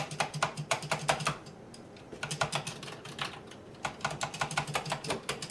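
Fingers typing on an old Commodore computer's keyboard, quick bursts of close, clacky keystrokes with a short pause in the middle, no voices.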